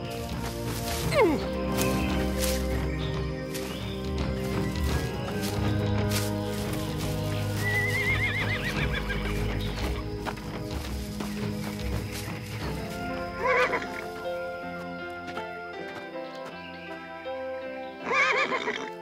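Horses whinny over a busy, layered background, with a sharp neigh near the start and more calls near the end; hoofbeats are not clearly distinct.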